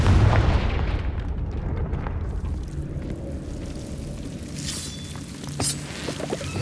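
A Confringo fire spell explodes in Hogwarts Legacy, a loud low boom right at the start that trails off into a long rumbling decay, with faint clinks and crackles later in the tail.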